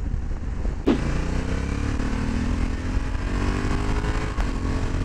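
A Honda Africa Twin 1100 Adventure Sports DCT motorcycle rides along with a steady, loud engine drone and smooth rising pitch as it accelerates through gear changes, with wind noise throughout.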